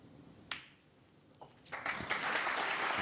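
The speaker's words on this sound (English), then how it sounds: "only a ripple of applause" A thin ripple of applause from a snooker crowd rises midway and continues steadily, moderate in level, after a few isolated sharp taps.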